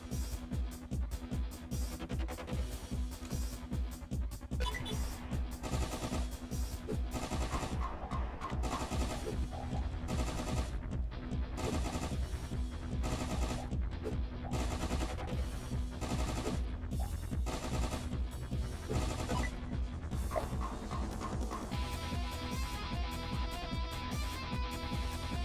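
SMG fire in a video game comes in rapid, dense bursts throughout, loud and continuous over droning game background sound.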